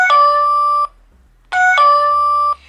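An Echo Chime300 wireless doorbell chime rings twice, each a bright, clear electronic ding-dong tone that holds and stops cleanly, with a short silent gap between the two rings.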